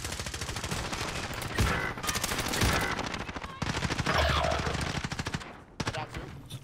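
Rapid automatic gunfire from the Warzone video game, bursts of repeated shots almost continuously with brief pauses, loud and close.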